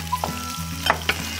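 Jjolmyeon noodles stir-fry in a pan of cooking oil for stir-fried young radish jjolmyeon, with a steady close sizzle and a few scraping stirs, no voices.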